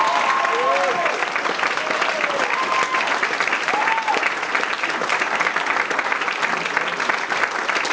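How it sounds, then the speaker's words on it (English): Loud, dense audience applause continuing steadily throughout, with a few whoops and voices rising above the clapping. "Give him a clap."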